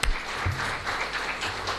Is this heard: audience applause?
yes